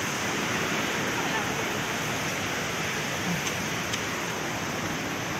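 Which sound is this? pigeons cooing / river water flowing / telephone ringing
river water flowing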